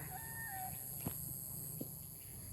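Chickens make faint clucks and short calls in a pomelo orchard, against a quiet outdoor background, with a couple of soft knocks.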